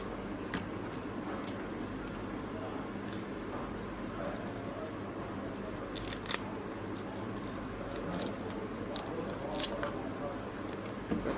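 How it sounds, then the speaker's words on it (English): Scissors snip open the gills of a baitfish while rigging it with a double hook, giving a handful of sharp, brief cutting clicks scattered over a quiet background, with a person talking softly in between. "Take our scissors, open up the gills,"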